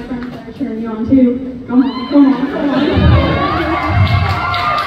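A crowd cheering at the Boulder County Fair, children's shouts and high excited voices swelling loudly and holding steady, mixed with talk underneath.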